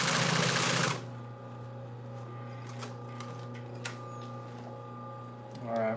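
A sewing machine stitches fabric for a yacht cushion, opening with a loud burst of fast, steady running. It then drops to a low, constant motor hum with light clicks, and a brief whirring surge comes near the end.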